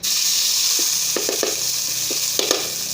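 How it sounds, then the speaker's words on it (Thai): Thai curry paste stir-frying in a little oil over a charcoal stove, a bright, loud, steady sizzle with a scatter of quick scraping stirs. "เดี๋ยวจะคั่วพริกแกงนะครับ"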